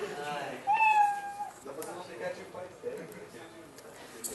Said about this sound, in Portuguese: ele vai ficar miando para sempre.